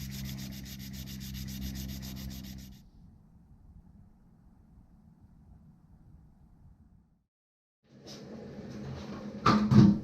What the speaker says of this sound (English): I'm using it now to sand the cove of this molding down